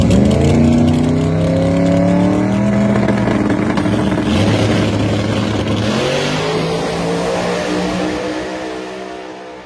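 Small-tire race cars, both built by Bad Habit Fabrications, roar down the strip in a loud sustained run, engines revving high and rising in pitch before fading slightly at the end.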